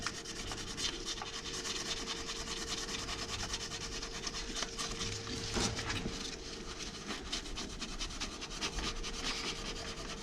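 A 180 grit Scotch-Brite scouring pad scrubs metal surfaces on a Mini 2.0 SD, making a steady, continuous rapid scratching rub close up for several seconds without talk, with a faint constant hum underneath.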